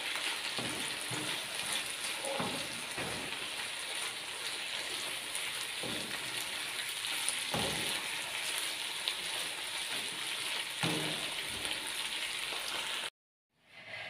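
Aubergines with minced meat cook in a pan over medium heat, giving a steady, dense sizzle and crackle that runs without a break before cutting out abruptly near the end.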